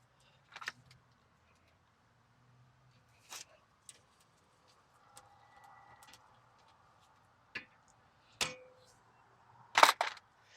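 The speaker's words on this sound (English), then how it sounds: "we're just going to install the rotor again" A brake rotor is fitted back onto the cleaned front wheel hub of a 2018 Honda CR-V, with a few sparse, sharp metallic clicks and clunks separated by near silence, the last ones loudest.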